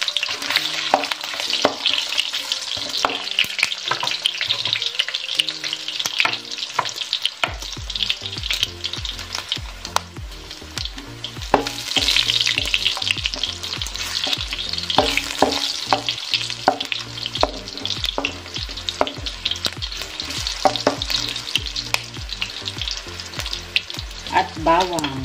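Ginger frying in a pan of oil for dinuguan, a steady loud sizzle with bursts of crackling and occasional stirring scrapes, close and continuous, no talking.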